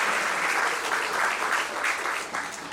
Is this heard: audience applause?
yes